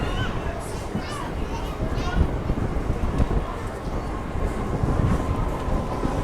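MEMU express train standing at a busy station platform, a steady rail rumble under constant chatter of passengers and children's voices.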